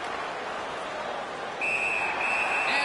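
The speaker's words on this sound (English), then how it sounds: "And freezes play for the whistle." A referee's whistle blows in an NHL ice hockey video game between Winnipeg and San Jose, a sustained shrill tone sounding twice over the steady crowd roar of the arena.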